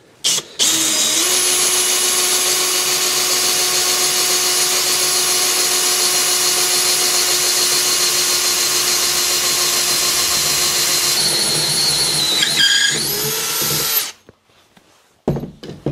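A power drill with a freshly sharpened masonry bit runs freehand in a steady, loud whine for about eleven seconds, then the pitch wavers before it winds down and stops.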